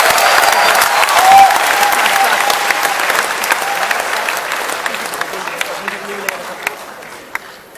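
Audience applause at a Hindi comedy show: a dense burst of clapping that starts strong and slowly thins to scattered claps, with speech over it.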